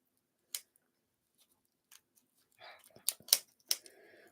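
Crisp snips of scissors and crinkling plastic wrapping, close by, in scattered bursts after a few isolated clicks.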